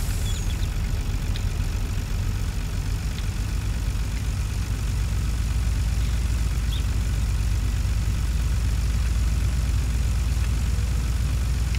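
A tractor engine in Farming Simulator 19 idles steadily during a logging job, a constant deep rumble with a dense mechanical drone that never changes pace for the whole stretch, with no talk.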